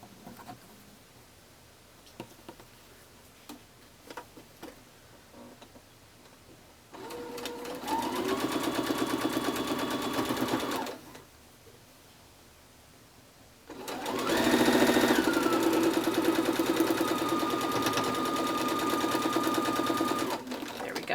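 Sewing machine stitching quilt block pieces for a four-patch block: two long runs of steady fast whirring stitching, close and loud, separated by quieter handling noises and pauses.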